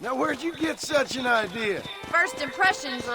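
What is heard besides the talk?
No everyday noise stands out behind the speech.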